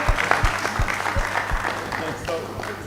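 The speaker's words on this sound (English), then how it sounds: "Let's clap for him." An audience at a health investment summit applauds steadily, with speech and voices over the clapping throughout and some low thumps.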